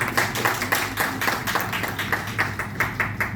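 Audience clapping at a speech event, faint and distant, with a loose rhythmic pattern of claps repeating over a low background hum.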